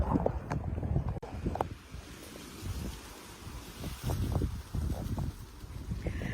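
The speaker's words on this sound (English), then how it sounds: "it's a little windy. It's always a little windy out here" Steady wind buffets the microphone in low rumbling gusts, with faint outdoor noise and no voices.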